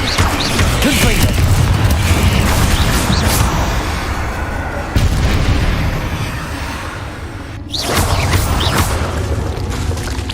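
Dense, continuous booming and crashing blasts from Bombarda spell explosions in the game Hogwarts Legacy, loud and sustained with brief dips, with a voice speaking over the chaos.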